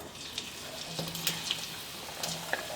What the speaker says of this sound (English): now I'm gonna start frying the onion